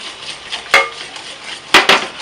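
Close, brisk mixing of condensed milk in a bowl: a soft swishing stir punctuated by three sharp clinks of a utensil against the bowl, loud and without talk.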